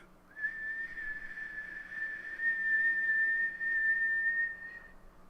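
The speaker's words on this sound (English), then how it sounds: "the sound of the kettle in the background pick up again as the whistle intensifies" A whistling kettle sound effect: one shrill, steady tone that starts abruptly and holds for about five seconds. It grows louder partway through before cutting off, with no voices over it.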